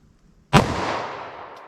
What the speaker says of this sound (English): Now let's hit that with our 45 ACP.